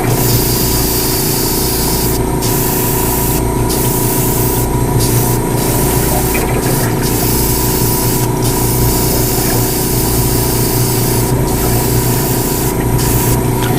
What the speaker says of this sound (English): There's some nooks and crannies on this part that I gotta re-spray paint a bit.